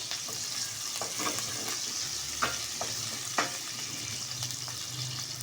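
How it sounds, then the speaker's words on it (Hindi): Chopped green chilies fry in a pan with a faint, steady sizzle and occasional light scraping taps, quiet, with no voices. "थोड़ी सी हरी मिर्चें कटी हुई डालेंगे हम। इसको हम फ्राई करेंगे।"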